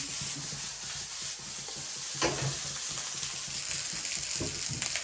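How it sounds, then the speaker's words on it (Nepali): Potatoes and fried rice frying in a pan, a steady close sizzle with scraping and stirring sounds and occasional clinks, continuous throughout with no talking. "तरकारी बनाउँछु आलु त्यहाँ फ्राई गरिदिन्छु"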